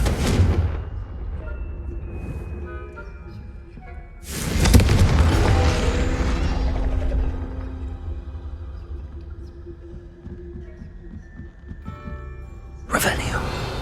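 In the video game Hogwarts Legacy, Confringo fire spells go off in heavy booming blasts, one at the start, a bigger one a few seconds later that rumbles away slowly, and another near the end, with talk around them.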